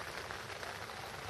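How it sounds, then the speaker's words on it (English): Steady rain falling overnight at a carp fishing lake, a faint, continuous broadband hiss of drops with no pauses or other sounds. "It's still raining now."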